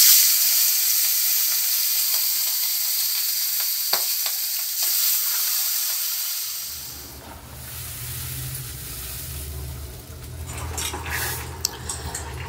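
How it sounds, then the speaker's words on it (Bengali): Hilsa fish frying in hot oil with nigella seeds starts as a bright, steady hiss, then shifts to a lower bubbling sizzle with occasional utensil clinks after the fish goes in. "তেলটা গরম হয়ে গেলে কালো জিরে ফোড়ন দিলাম, দিয়ে মাছটা আমি ঢেলে দিলাম।"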